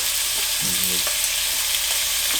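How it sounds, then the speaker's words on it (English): A yakiniku-size steak sizzles loudly in a hot pan, a steady close-up hiss with a short squeaky tone near the start. "that steak is getting stuck to the bottom of the pan, and the pan heat is creating a crust"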